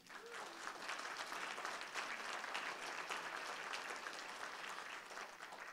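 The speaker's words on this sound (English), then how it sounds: "Give him a round of applause" Applause from a room full of people at a talk, greeting a man in the audience, a steady dense wash of clapping throughout, moderately distant and fairly quiet, with no speech over it.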